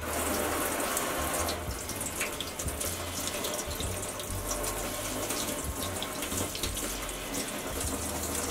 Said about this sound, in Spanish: Lo primero que vamos a hacer es lavar los tomates bien